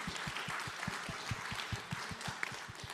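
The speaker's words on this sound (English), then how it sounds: "Y'all can clap, give it up," An audience claps steadily at a discussion event. The claps are faint and distant, evenly paced and sustained for a few seconds, with no one speaking over them.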